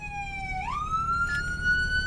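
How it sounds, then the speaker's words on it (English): A police car siren wails loud and close, holding a steady tone before sweeping upward to a higher pitch and sustaining there, with no voices over it. "Cut your siren."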